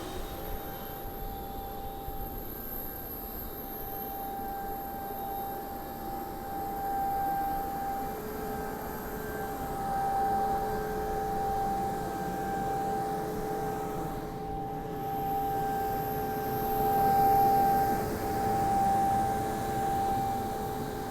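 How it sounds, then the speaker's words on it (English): An Airbus A220-300 auxiliary power unit turbine runs steadily, a continuous whining hum with a sustained tonal whistle that holds at fairly even loudness throughout, with no talking. "we've got the APU running. The APU is the third engine actually on board of our aircraft."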